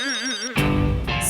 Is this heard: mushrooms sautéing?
no